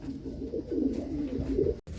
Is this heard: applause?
no